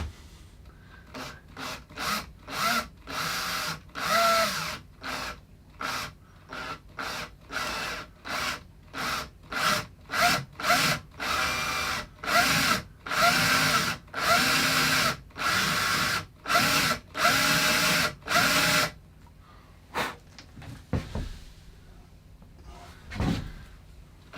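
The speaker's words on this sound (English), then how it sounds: "I'm checking while drilling that my drill bit is removing material equally" A power drill runs in a rapid series of short, loud bursts, starting and stopping repeatedly as it bores into a guitar body's wood, then goes quiet near the end.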